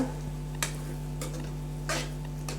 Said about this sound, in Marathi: वरून थोडीशी कोथिंबीर टाकून मिक्स करून घेऊया